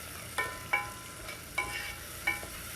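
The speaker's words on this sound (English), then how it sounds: "We'll stir it up and allow it all to brown just a little bit." Vegetables seasoned with ground pepper and fresh basil, oregano, sage and thyme browning in a pan for pizza, stirred with a utensil that clinks and scrapes sharply against the pan about four times over a steady, soft, close sizzle, with no talking.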